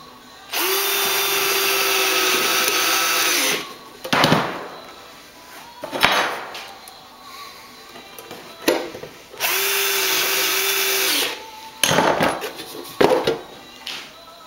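A power drill drives plain self-tapping sheet metal screws while building a chick feeder, in two loud whirring bursts of about three seconds each, with clanks and handling knocks in between.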